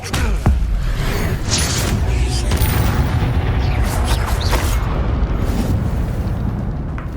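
Confringo fire explosion spell cast in the video game Hogwarts Legacy, a deep booming blast with crackling bursts and thuds over continuous rumbling game ambience, no talk.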